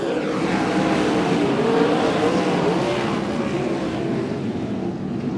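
Sprint cars race at Timmis Speedway in a December A-main, and their engines make a loud, continuous roar that swells and fades slightly as the pack passes.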